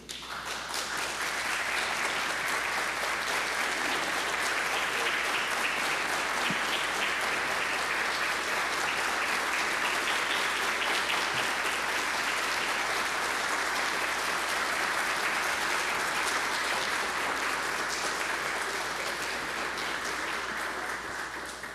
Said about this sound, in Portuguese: vamos receber, com uma calorosa salva de palmas, o homenageado deste dia, deputado federal Eduardo Cury